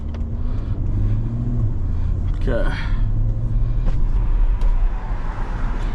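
A loud Chevrolet C8 Corvette engine drones steadily from inside the cabin while driving, with a brief rising rev in the middle and a short spoken word over it.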